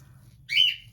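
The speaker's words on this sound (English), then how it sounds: "Bloody bird, honestly." A pet bird named Mabel gives a single short, bright whistle lasting about half a second, clear and close over a quiet low background hum.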